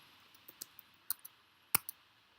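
Typing a command on a computer keyboard, a handful of sparse, sharp key clicks spread irregularly, close and fairly quiet against a near-silent background.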